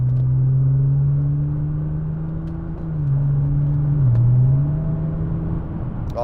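Nissan GT-R engine droning steadily while driving, a loud low hum with pitch dips and rises as revs shift, heard from inside the car.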